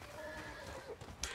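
A horse in the game Red Dead Redemption 2 neighs in a brief, faint whinny, with soft hoof clatter in the background.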